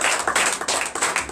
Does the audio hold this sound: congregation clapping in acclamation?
yes